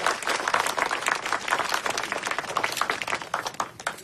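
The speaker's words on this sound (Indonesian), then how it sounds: "Tepuk tangan sikit." Crowd applause at an outdoor Hari Raya Haji ceremony opening a camel sacrifice event, dense steady clapping from many hands throughout, fairly close and even in loudness with no talk over it.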